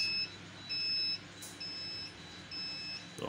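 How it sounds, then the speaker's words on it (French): An egg incubator's low-temperature alarm gives a series of clean electronic beeps in a regular on-off pattern, each lasting about half a second. It sounds fairly faint over a quiet hum of machinery. "nous avons l'alarme qui nous signale que la température est en train de descendre en dessous de 37 degrés"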